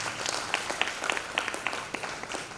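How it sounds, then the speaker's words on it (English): Scattered audience applause at a national conference on agriculture, forest rights and sustainable livelihood, with a thin spread of individual claps rising and falling over a couple of seconds, moderately distant and fairly light. "Let's give them a big round of applause."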